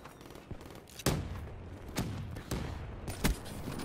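Gunshots from a Black Ops 3 match, with four sharp blasts spaced irregularly over a low rumble, loud and close.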